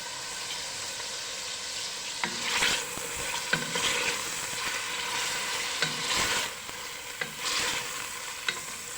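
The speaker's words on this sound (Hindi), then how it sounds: "गोश्त को थोड़ा सा मैंने भून लिया है" Meat sizzling and frying in a pot for gosht tahari while being stirred, with steady close sizzle and several sharp scraping clicks of the spoon against the pan.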